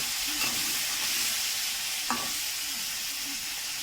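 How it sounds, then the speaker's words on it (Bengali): A rui fish head fries in hot oil in a pan, producing a continuous close sizzle and crackle with a few soft utensil knocks and no voices. "তো রুই মাছের মাথা তেলে ভাজবো।"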